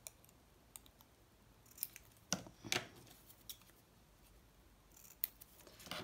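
Scissors snip white paper to trim it straight, a handful of short crisp cuts spaced irregularly, close and quiet with no talking.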